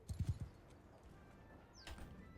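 Hoofbeats of a galloping horse in the medieval battle game Bannerlord: a quick cluster of close, heavy clip-clops at the start, then faint background din and another soft burst of hooves near the end.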